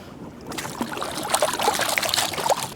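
Water rushes steadily through a super sluice while prospecting for gold, a close, continuous trickling and splashing flow that swells slightly louder partway through, with no talking.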